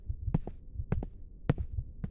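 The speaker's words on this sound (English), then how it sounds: "Your heartbeat is speeding up significantly at the idea of me taking blood from you." A heartbeat sound effect in a roleplay scene throbs as four paired lub-dub beats over a low hum, steady and fairly quick, close and muffled with no voice.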